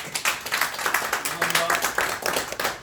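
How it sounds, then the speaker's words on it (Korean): An audience at a lecture event with a lawmaker and a journalist claps for the speakers, producing brisk, fairly close hand claps in an uneven rhythm with faint voices underneath. "뜨거운 박수 부탁드립니다"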